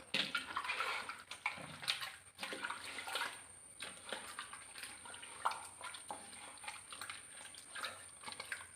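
Bones and water are stirred in a pressure cooker for a Kerala-style dish, making continuous wet sloshing and swishing with scattered light scrapes against the metal, close by and without speech.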